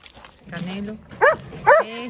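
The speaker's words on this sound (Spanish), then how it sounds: "No ladre. No ladre." A dog gives a couple of short, sharp barks close by, after a low whine, with a person's voice in the background.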